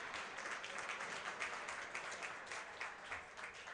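Hockey fans in an arena applaud as an injured player is helped off the ice, producing a continuous wash of distant clapping that echoes faintly through the rink.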